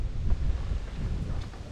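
Cold wind gusts while fishing outdoors, producing a low rumbling buffet on the microphone that rises and falls in uneven surges.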